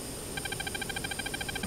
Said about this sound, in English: if you hear that locked on tone